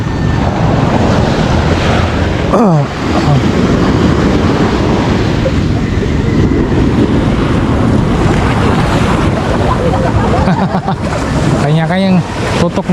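Waves washing onto the beach at Bucana, Nasugbu, Batangas, a loud continuous surf roar with wind buffeting the microphone and occasional voices.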